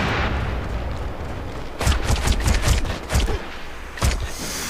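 Suppressive gunfire in the shooter MAG: irregular clusters of sharp gunshots and heavier booms over a steady battlefield rumble, several quick shots in bursts with pauses, medium distance and fairly loud, with no talking.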